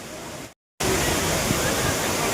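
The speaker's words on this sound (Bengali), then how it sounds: "আসতে পারবো না ভয় ভয় করে অনেকটা উপরে চলে এসেছি, একদম ঝর্ণার কাছে।" A waterfall roars up close as a dense, loud, continuous rush of falling water, broken only by a brief silent gap near the start.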